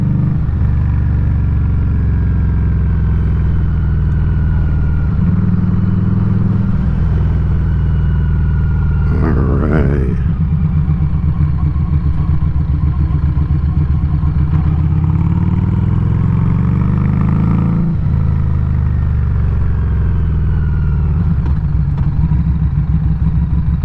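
A Street 500 motorcycle on its first ride of 2022 gives a loud, continuous engine drone that rises and falls as the rider moves along the road, with a brief clatter partway through. No voices are heard.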